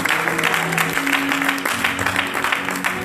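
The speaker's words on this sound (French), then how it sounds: "Un applauso a Dio. Acclamons le Seigneur, alléluia." A church seminar congregation applauding God, dense sustained clapping from a large crowd mixed with a voice leading the praise and possible background music.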